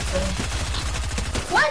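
Pistol shots in a video game, a quick run of sharp repeated cracks in a steady rhythm beneath someone talking, with a brief louder burst near the end.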